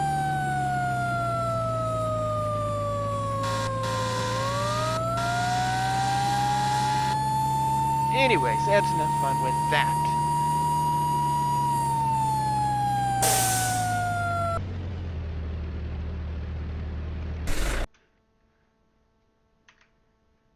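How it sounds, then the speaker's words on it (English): A fire truck siren in the Minecraft Transport Simulator game, its wailing tone sweeping slowly up and down across a steady engine drone, loud and continuous, with someone talking briefly near the end before it cuts off into quiet. "So yeah, sirens, lights, all the fun things you're going to need to take your fire truck around the city."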